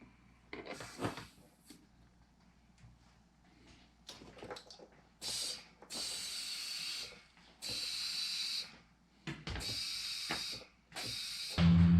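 A Harbor Freight mini air compressor inflates a thin, cheap cart tire in hissing bursts, several bright sustained blasts of air separated by short pauses and quiet clicks, close and fairly loud.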